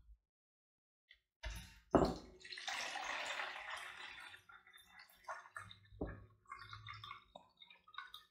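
One litre of blue water pours from a bottle into a cube container, a close gurgling splash with a burst of pouring followed by intermittent trickles and drips.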